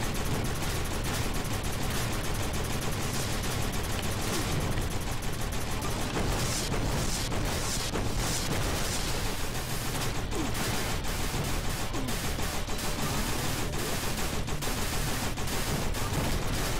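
Gunfire aimed at the player in the action game Kickass Commando rattles on without a break, a loud, dense barrage of rapid shots and bursts that fills the whole stretch.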